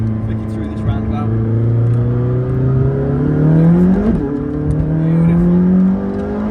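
A McLaren 600LT supercar accelerates hard through a roundabout, its engine note climbing steadily in loud, close rising tones with a brief shift midway, continuous throughout.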